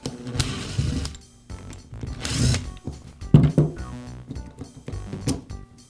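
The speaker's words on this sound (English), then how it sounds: "Now remove the rear cover. It's secured with 2 screws." Two screws being backed out of the rear cover of a Makita hammer drill produce ratcheting clicks and mechanical rattling in several short bursts, close and fairly loud, with no talk.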